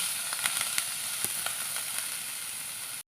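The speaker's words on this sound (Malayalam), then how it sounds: "കുറച്ച് നാളികേരം വറുത്തെടുക്കാം" Grated coconut roasting in coconut oil with fenugreek seeds, a steady close hiss and sizzle with scattered small pops, cutting off abruptly at the end.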